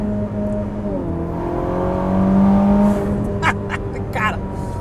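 A Ferrari SF90 Hybrid with a full Novitec exhaust and stock valve control revs and accelerates up close, its engine note rising in pitch and swelling louder midway, while speech runs over it.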